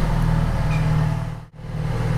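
A 2010 Yamaha FZ6R motorcycle engine runs loud and close with a buzzing drone, then briefly cuts out as if shifting before resuming strong, with no talk.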